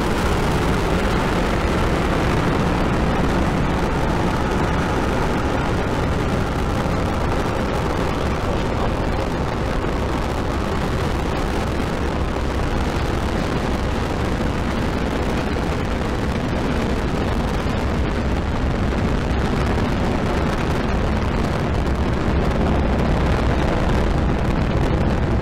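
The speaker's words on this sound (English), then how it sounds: "Ignition, liftoff. Vehicle is pitching downrange." A SpaceX Falcon 9 rocket ignites and lifts off, a loud continuous broadband roar that fills the whole span without letting up, rumbling and crackling steadily with no voices.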